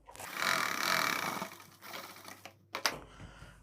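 A sewing machine stitches a folded suit hem continuously, with a steady whirring run for about two seconds, followed by a pause and a few short bursts as the fabric is guided.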